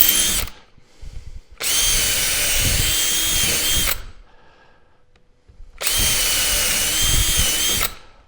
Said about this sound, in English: And we drill 3 holes.